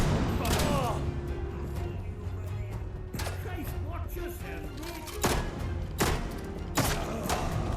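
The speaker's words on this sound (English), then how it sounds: "gunshots are a bit echoey in here" Repeated video game gunfire in Atomfall cracks and echoes around an enclosed indoor space, scattered irregularly across the stretch, each shot leaving a reverberant boom behind it.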